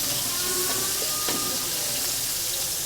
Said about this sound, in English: let it do a sizzle zizzle just for a minute